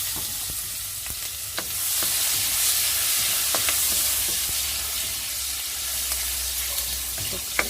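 Garlic and onion sauté in a hot pan for a stir-fry of corn with squash flowers and mixed vegetables, a steady broad sizzle with a few sharp spatula clicks and scrapes, close and fairly loud, without talk.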